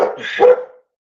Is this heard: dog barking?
yes